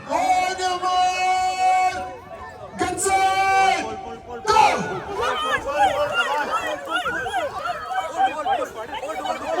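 A crowd yells at an Onam tug of war in Bengaluru: long, drawn-out calls at first, then dense overlapping shouts and chatter, loud and close throughout.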